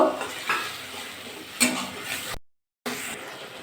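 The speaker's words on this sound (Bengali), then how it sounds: "টমাটোমটা যেটা বেটে রেখেছিলাম সেটা দিয়ে দেবো এর মধ্যে দিয়ে ভালো করে কষিয়ে নেব" Ground tomato paste being stirred into a simmering pot for a vegetarian potato and pointed gourd kalia, with a few sharp clinks of a spoon against the pot over a soft sizzle, broken by a brief gap.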